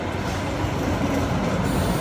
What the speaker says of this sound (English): another metro, so loud,